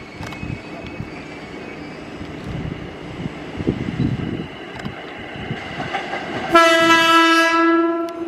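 An executive-class intercity train rumbles and rattles steadily as it pulls into Manggarai Station, Jakarta, then a loud, sustained horn blast sounds near the end.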